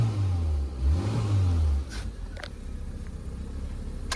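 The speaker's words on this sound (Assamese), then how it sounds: "ধুনীয়া স্মুথ চাউণ্ড, পেট্ৰল ইঞ্জিন যিহেতু।" A petrol Maruti Zen Estilo engine revs a couple of times nearby, then drops back to a quieter idle while a few light clicks and knocks sound over it.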